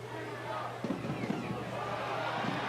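A soccer stadium crowd at a Sacramento Republic FC match against FC Tulsa erupts after a takeaway, a loud rising roar with shouts rising out of it and a low steady hum underneath.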